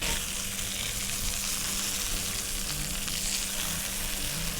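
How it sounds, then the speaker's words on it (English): Sausage and eggs frying in a pan during van-life camp cooking, producing a dense, even sizzle that holds steady and close for a few seconds with no voices over it. "Now eggs. Gosh, they're gonna cook so fast."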